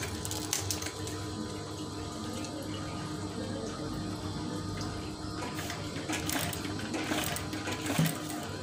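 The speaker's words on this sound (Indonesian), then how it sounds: "Terus kita jahit." A sewing machine stitches curtain fabric for a swag curtain, its steady motor whir running continuously and fairly loud throughout, with no talking.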